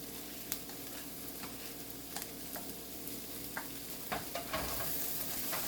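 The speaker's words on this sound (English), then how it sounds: "Give that a good mix while the spinach is wilting." Chopped spinach and green chilies sizzle in a frying pan for a breakfast frittata, a steady quiet hiss broken by scattered scrapes and clicks of stirring, with no talking.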